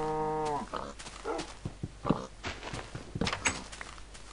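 A cow in the video game Minecraft lets out one clear, drawn-out moo at the start, followed by soft in-game footsteps and shuffling sounds.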